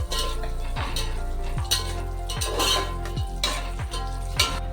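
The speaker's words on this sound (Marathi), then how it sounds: "तर बघा आपल्या ड्रायफ्रूट आता छान भाजून घेतलेत मी." Pistachios, almonds and cashews roast in a pan for carrot halwa, with steady stirring scrapes repeating roughly every second and a soft sizzle underneath, close and fairly loud, with no talking.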